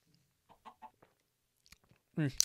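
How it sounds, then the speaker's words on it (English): A chicken in the Minecraft video game clucks in a few short soft bursts, followed by a louder, longer cluck near the end, with quiet gaps between the calls. "Hello, chicken."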